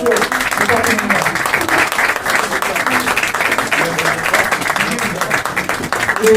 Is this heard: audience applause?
yes